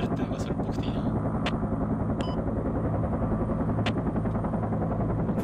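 Enemy gunfire sounds in the military shooter game Project Reality: a handful of sharp, scattered shots crack out irregularly over a constant, heavy low engine-like rumble.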